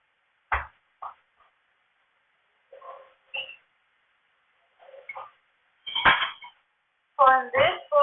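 Bowls and dishes clink and clatter in a home kitchen during cooking, scattered sharp ceramic knocks and ringing taps coming close and clear with quiet pauses between them.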